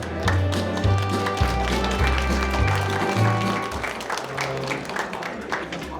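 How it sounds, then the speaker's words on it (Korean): Audience applause at a hometown association gathering in a convention hall in Seoul, a dense wash of many hands clapping at a steady level for several seconds, with deep low tones underneath. "큰 박수로 좀환영 해주시면 고맙겠습니다"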